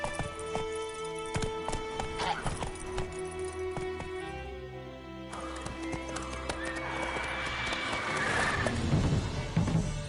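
Horse hooves clip-clop steadily as a horse is ridden, with a whinny breaking through near the end; the hoofbeats sit close and fairly loud against a busy background with other faint sounds.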